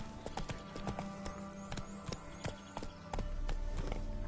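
Roach, a horse in The Witcher 3, gallops in a steady clip-clop rhythm of close, loud hoofbeats over game ambience, with no talk.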